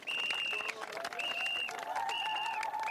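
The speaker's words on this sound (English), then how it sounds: "When they clap, they make the whistle." An audience applauds after a speech, steady dense clapping mixed with repeated long shrill whistles rising above it, close and lively throughout.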